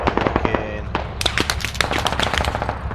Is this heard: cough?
no